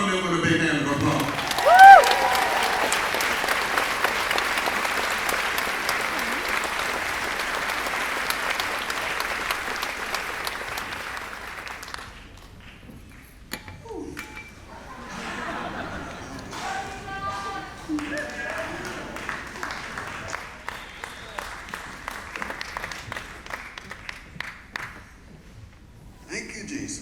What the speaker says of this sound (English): Welcome them with a big hand of applause